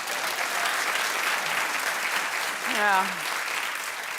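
A talk show studio audience applauds throughout, a dense, even wash of clapping from the crowd, with a brief spoken exclamation rising over it near the end.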